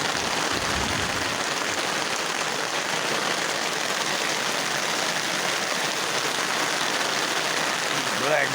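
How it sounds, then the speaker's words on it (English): Steady rain pours on a high desert garden during a thunderstorm, a dense, continuous hiss close by with no break across the whole stretch. "It's raining."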